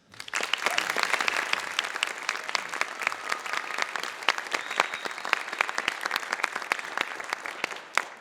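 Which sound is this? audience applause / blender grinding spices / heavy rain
audience applause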